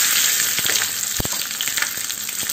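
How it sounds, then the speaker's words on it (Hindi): Mustard seeds and two red chillies crackle in hot ghee for a tadka for pakora kadhi: a loud, constant close sizzle with scattered sharp pops and spatters. "इसके अंदर हम लोग डालेंगे थोड़ी सी राई। राई यहाँ पे चटपट आने लगी है।"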